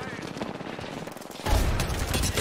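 Video game gunfire aimed at Bangalore, a dense burst of rapid automatic shots that kicks in loudly halfway through and keeps going, following a stretch of quieter game noise with a voice.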